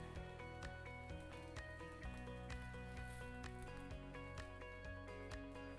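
Oat and banana pancakes fry in margarine in a pan, giving a steady soft sizzle with faint crackles throughout, quiet and continuous with no talking.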